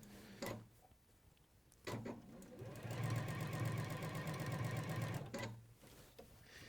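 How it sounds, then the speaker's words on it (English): A sewing machine stitching through layers of fabric of different thicknesses, starting with two short bursts and then running steadily for about three seconds at a close, clear level with a regular mechanical rattle. "you can feel the machine will behave differently as it goes through the different"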